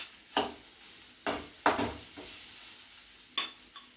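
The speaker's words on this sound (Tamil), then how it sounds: "இப்போ இந்த சாதத்தை அதில் போட்டு கிளறி எடுத்துட வேண்டியது" A spoon stirs cooked rice into a spiced coconut and mango mixture in a pan, giving four or five short scraping, rustling strokes spaced irregularly over a faint sizzle.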